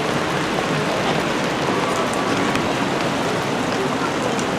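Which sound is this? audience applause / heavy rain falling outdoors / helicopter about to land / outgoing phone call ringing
heavy rain falling outdoors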